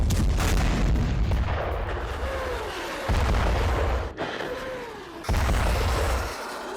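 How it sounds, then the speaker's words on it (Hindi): Heavy booming blasts from a rocket attack in Gaza roll out one after another, loud and reverberant, with rumbling gaps and fresh impacts around the midpoint and near the end. "TV9 के कैमरे में कैद हुए ये रॉकेट अटैक।"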